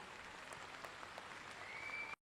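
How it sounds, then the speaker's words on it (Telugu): Faint, distant applause for a choreographer at a stage event, a short burst of scattered hand claps over a steady hiss that cuts off abruptly at the end. "వారికి కూడా ఒక్కసారి గట్టిగా చప్పట్లు."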